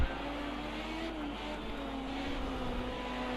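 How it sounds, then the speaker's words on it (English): Race car engine of a Ford Capri in Project Cars 2 during an LPB mixed championship race, a steady sustained drone running near and loud for the whole stretch with slight pitch shifts as it rounds the final corners. "here's Bidzster coming around the last few corners in the Capri to hopefully take his first win in LPB racing"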